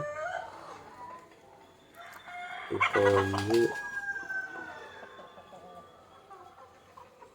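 Country chickens cluck around a home yard while being fed old leftover rice, with one loud crow bursting out midway amid softer clucks and someone speaking briefly.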